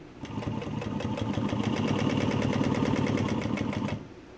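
A Juki walking foot sewing machine stitches vinyl for car upholstery, giving a steady, rapid, rhythmic mechanical chatter that runs close and unbroken for about four seconds before stopping.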